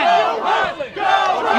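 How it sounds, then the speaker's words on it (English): A mob yells in unison at a man draped in an Israeli flag: dense massed shouting of many voices, steady and loud, dipping briefly in the middle before surging again. "with a crowd shouting "Go home" around him and calling him a Nazi"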